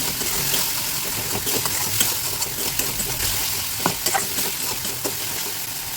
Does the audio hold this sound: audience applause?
no